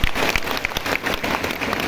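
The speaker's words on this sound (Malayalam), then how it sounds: "ഒന്നും കൂടെ നന്നായി കൈയടിച്ചോളൂ." An audience at a credit cooperative society's annual general body meeting applauds, a dense, loud burst of many hands clapping together without a break.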